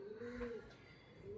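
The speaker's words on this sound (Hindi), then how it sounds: "कबूतर की आवाज़ आप सुन सकते हैं," A pigeon gives a soft, low coo once, faint and somewhat distant in a quiet morning setting.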